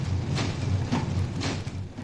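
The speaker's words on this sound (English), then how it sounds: "And here is a printing press, which was in general use about the turn of the century." An old printing press from around the turn of the century runs in a village print shop, giving a rhythmic mechanical clatter with soft thumps about every half second over a low continuous rumble.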